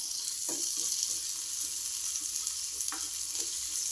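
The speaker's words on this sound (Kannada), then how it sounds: "ಅದನ್ನು ಒಂದು ಸ್ವಲ್ಪ ಚೆನ್ನಾಗಿ ಫ್ರೈ ಮಾಡ್ಕೊಳ್ಳೋಣ" Onion frying in about a tablespoon of oil for a masala, a steady close sizzle with a few soft stirring knocks and scrapes, no voices.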